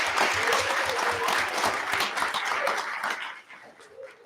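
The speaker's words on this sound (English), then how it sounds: "Let's give them a round of applause." Audience applause at a school district board meeting honoring the girls softball team, steady dense clapping from a room of people that thins and fades toward the end.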